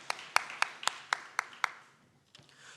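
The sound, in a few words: church congregation clapping in blessing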